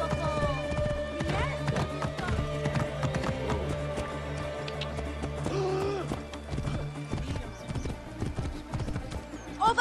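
Rhythmic clip-clop of horse hooves from the game Assassin's Creed Origins, fairly close and steady, with occasional neighing and voices speaking over a game-like musical backdrop.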